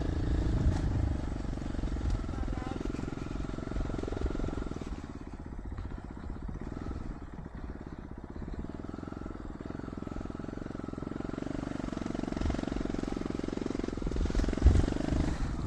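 A dirt bike engine runs continuously while riding a trail to hot springs, a rough low drone with clattering and wind, loudest at start and end.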